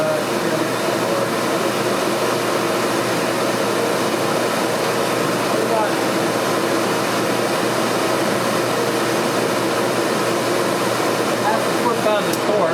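Triumph Trident 660 motorcycle fitted with a Zard exhaust running steadily on a dyno, a loud continuous broadband engine and exhaust roar that holds at an even level throughout with no clear rises or breaks.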